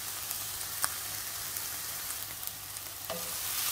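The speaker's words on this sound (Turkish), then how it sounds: "Fasulyelerimiz, biberlerimiz kavruldu." Green beans and peppers fry in a pan with a soft, continuous sizzle, faint and even, broken by a couple of light clicks of stirring.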